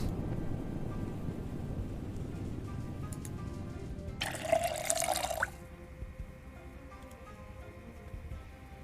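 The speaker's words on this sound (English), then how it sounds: "Let's fill our water bottle as well" Water pours in a bright, hissing stream for about a second, filling a water bottle in the game Project Zomboid, over low ambient rumble, then stops.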